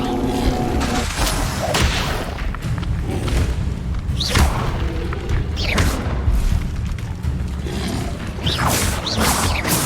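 Incendio fire spell cast again and again in Hogwarts Legacy, heard as a string of heavy booming thuds and fiery whooshes in irregular bursts, loud and close throughout, with no speech.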